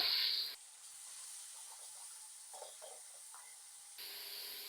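Chopped tomato hits hot oil in a kadhai during chicken kaleji and pota cooking, giving a steady soft sizzle and hiss throughout, with brief louder crackles at the start and end.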